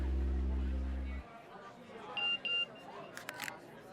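A phone gives a message notification tone: two short, clear beeps, then a few quick bright chirps, heard indoors right after a low hum cuts off.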